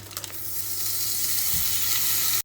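Steady, close sizzling of about 50 g of butter in a saucepan, a dense crackling hiss that holds at the same level and cuts off abruptly.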